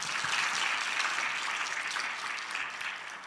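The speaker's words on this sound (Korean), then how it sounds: "우리 아내에게도 박수 한번 쳐주고 원합니다." A church congregation applauds steadily for a few seconds, a dense wash of clapping heard alone without talk.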